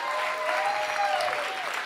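A live comedy club audience applauding at a stand-up show, a dense steady wash of clapping that carries on throughout, with a voice faintly cutting through partway.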